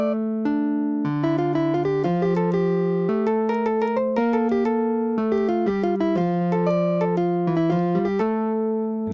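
Two voices of Bach's 13th fugue from The Art of Fugue played together on keyboard, the theme and its inversion in the left hand moving against each other in steady, continuous counterpoint, clear and close with no talking.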